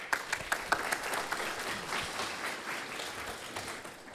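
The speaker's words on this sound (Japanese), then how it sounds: "酒井様に拍手をお願いいたします" Audience clapping welcomes the speaker Sakai onto the stage at an Adobe Live 2015 design event, sharp individual claps at first and then a sustained, even roomful of applause that gradually eases.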